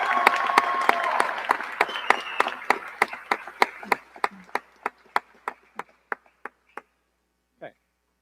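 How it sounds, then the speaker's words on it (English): A graduation audience claps for staff, at first as warm group applause, then thinning into a few slow, sharp, evenly spaced claps that die out, with one last isolated clap. "Staff, please stand and let us give them a big round of applause."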